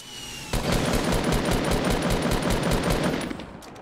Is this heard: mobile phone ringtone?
no